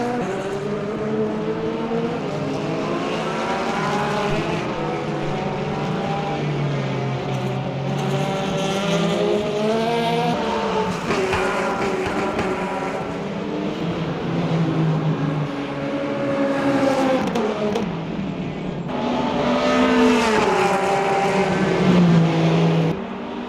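Porsche and Corvette GT3 race cars running close together in Le Mans Ultimate, two loud high-revving engines whining and shifting through gears for a sustained stretch, pitches rising and falling as they chase each other.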